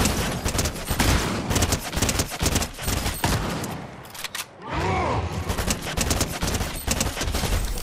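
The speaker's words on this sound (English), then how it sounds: "We're getting shot at." Rapid gunfire in Fortnite crackles in dense, loud bursts of shots, pausing briefly midway before the shooting resumes at the same fast rhythm.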